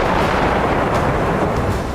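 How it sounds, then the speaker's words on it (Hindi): Artillery shelling on the outskirts of Donetsk forms a continuous loud rumbling roar with no clear gaps, dense and heavy throughout. "यहाँ लगातार गोलाबारी की जा रही है।"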